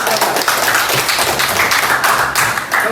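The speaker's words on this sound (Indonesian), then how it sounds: "tepuk tangan untuk kelompok" A school classroom of students claps for a group, loud rhythmic clapping that pulses steadily throughout, close and continuous with a somewhat patterned beat.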